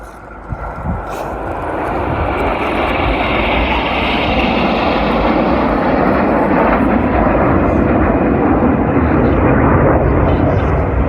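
Red Arrows display jets fly past at the Shuttleworth airshow with a broad, continuous engine roar. It swells gradually and stays loud and steady for about eleven seconds, the kind of sound heard from a crowd at a distance.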